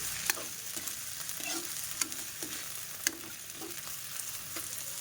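Mole crickets sautéed with garlic in a pan, stirred around with a spatula; a steady close sizzle runs throughout, broken by a few sharp scraping clicks, with no one speaking.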